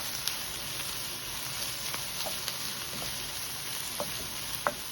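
Mixed vegetables sauté in a hot pan with a steady, close sizzle, broken by a few faint clicks of stirring, with no voices.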